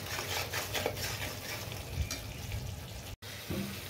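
Spice paste with salt and turmeric being stirred and fried in a pan: a steady low sizzle with soft scraping strokes, close and moderately loud, with a brief drop to silence near the end.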